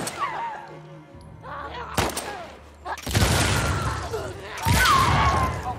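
Gunfire rings out in The Last of Us Part II video game: a sharp shot, then heavier bursts with booming echoes and rumbling tails, loud and close, with quieter ambient sounds between.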